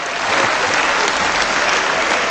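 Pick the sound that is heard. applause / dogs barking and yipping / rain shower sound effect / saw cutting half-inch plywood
applause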